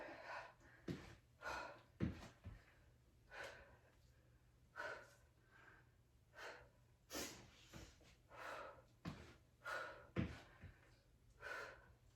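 Heavy, rhythmic breaths repeat about every second or so during a dumbbell strength workout, sharp inhales and puffing exhales close to the microphone, with no talking.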